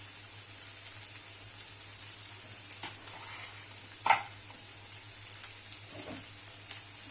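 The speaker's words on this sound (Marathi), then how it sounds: "आता हे टामाटो आणि कांदा एकदम चांगलं भाजून घ्यायचं बघा कांदा चांगला परतून घ्या" Onion and tomato frying in a pan, a steady close hiss of sizzling oil with a few soft stirring scrapes and one brief louder clack midway.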